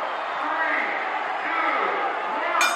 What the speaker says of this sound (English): This crowd is in a frenzy. They are screaming.